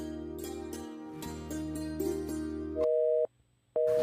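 Phone busy signal, a steady repeating tone that cuts off for a short gap and then resumes, heard clearly after an opening stretch of sustained musical tones.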